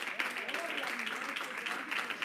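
Church congregation applauding during a Sunday service, a dense, steady wash of many hands clapping at a faint, distant level, with a voice speaking over it.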